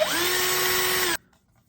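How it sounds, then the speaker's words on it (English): A step drill bores through a plastic Otterbox phone case, a loud, steady high-pitched whine close up that holds for just over a second, then cuts off abruptly into near silence. "the way the step drill works is that once it starts to go through"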